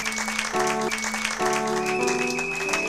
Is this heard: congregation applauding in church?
yes